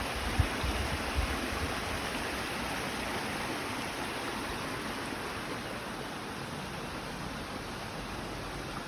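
Steady broadband rush of a waterfall along a hiking trail in Portugal, continuous and even throughout with no voices, a constant wash of falling water at moderate distance.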